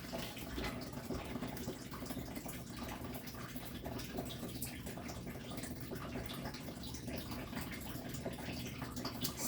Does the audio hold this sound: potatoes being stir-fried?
no